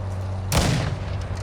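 A single loud sniper shot cracks out in a Call of Duty Modern Warfare II Warzone 2.0 DMZ match, a sharp close blast with a brief ringing tail fading back into a low ambient hum.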